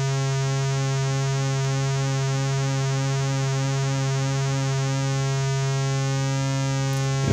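A modular synthesizer voice holding one steady buzzing tone, rich in harmonics, its pulse width slowly modulated so the timbre shimmers and wavers throughout, loud and alone.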